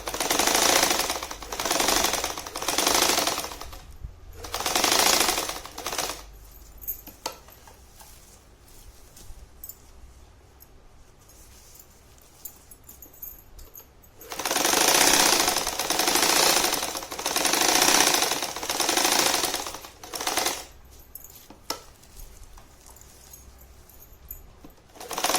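A sewing machine stitching along a marked square on a purse, running in several loud, steady bursts of rapid mechanical whirring, separated by quieter pauses where the machine stops.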